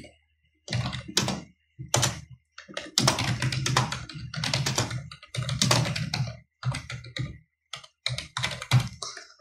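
Someone types a cover letter on a computer keyboard: close bursts of rapid key clicks and thunks, separated by short pauses.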